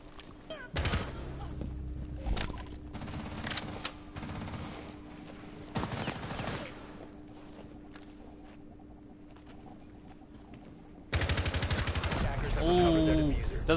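Gunfire from a shooter video game bursts out in a few sharp clusters early on, then a quieter stretch, with a caster talking over the match throughout.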